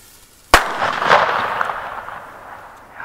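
A Böller firecracker goes off outdoors: one sharp, loud, close bang, followed by a second burst about half a second later, then a long rumbling decay fading away.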